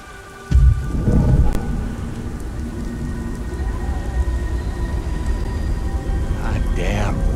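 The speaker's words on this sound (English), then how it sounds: "God damn rain." Steady rain and thunderstorm in the Beyond Two Souls video game, opening with a deep thunder rumble, then continuous loud rainfall with distant rumbling, and a voice speaking briefly near the end.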